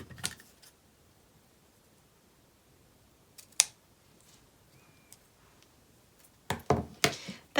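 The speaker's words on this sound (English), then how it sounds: "I'm going to cut the ends of my ribbon" Fabric scissors snip the ends of a ribbon, a few crisp close cuts: one early, one sharp snip in the middle, then a quick cluster of snips near the end, with near silence between.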